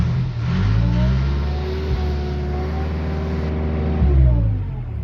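A Case 580K backhoe engine that smokes badly and needs work, running steadily at idle, a close and fairly loud low drone with slight pitch shifts, heard alone without talk.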